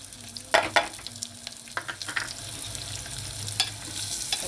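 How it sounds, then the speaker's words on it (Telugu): Lentils (dal) tipped into a hot pan and stirred, giving a steady oil sizzle with a few louder scraping stirs and clatters near the start, close by with no talking. "పప్పు వేసుకున్నాక ఇలా కలుపుకోవాలి చక్కగా మనం."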